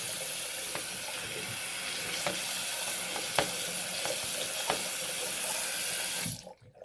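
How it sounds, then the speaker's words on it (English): Tap water runs steadily into a sink while a Barbie doll's hair is rinsed, a loud even hiss with a few small knocks, stopping abruptly near the end; no one speaks. "Now we'll rinse Barbie"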